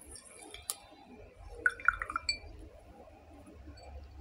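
A wet beauty blender sponge is handled in a glass of water, giving faint drips and small liquid sounds with a few light clinks against the glass, sparse and quiet.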